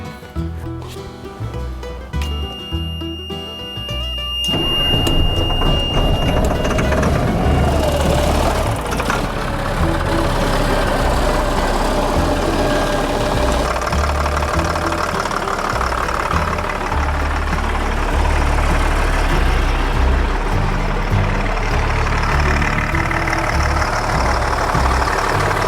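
Truck diesel engine started with the cab tilted up, cranking briefly then settling into a loud, steady rumbling idle with a knocking, mechanical rattle that continues without a break.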